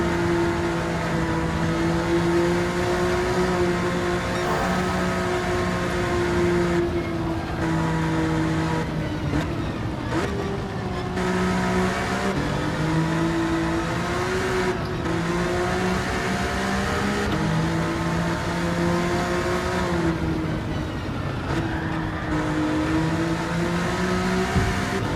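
An Alfa Romeo Giulia, rear-wheel drive and modified, driven around a track in Gran Turismo 7, its engine droning loudly and steadily with pitch rising through the gears and dropping at repeated shifts and braking, no talk over it.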